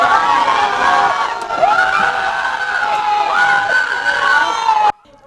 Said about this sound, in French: Cris et consternation des membres de la communauté camerounaise de l'Inde.